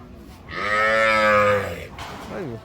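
A buffalo at a cattle market gives one long, deep, loud moo nearby, with a shorter rising call just after it.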